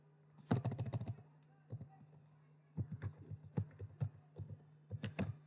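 Computer keyboard typing at a desk, with clustered bursts of quick close clicks separated by short pauses and no talk.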